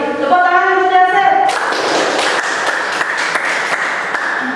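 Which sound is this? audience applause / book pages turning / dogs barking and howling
audience applause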